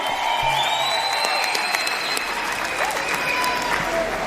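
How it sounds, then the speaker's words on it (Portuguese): Audience applause at a live comedy performance, steady and dense clapping from a large crowd filling the whole stretch, fairly loud and close with no talk over it. "Palmas para os táxis."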